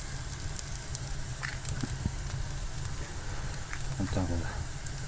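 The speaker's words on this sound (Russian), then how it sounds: "Жгу там всякий мусор, пакеты всякие там накидал из-под мяса" A fire of paper, plastic bags and meat wrappers crackles in a small shallow fireplace, with scattered pops and snaps under a steady low rumble.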